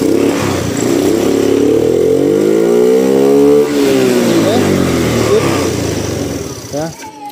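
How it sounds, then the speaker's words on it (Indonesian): A motorcycle engine is revved high after a piston ring replacement done without reboring the cylinder. It is loud and close, rising and falling in long sustained revs, then settles toward idle at the end. "Ya, kita udah gas geber sampai tinggi, udah aman, nggak ada asapnya."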